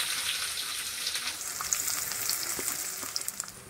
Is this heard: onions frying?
yes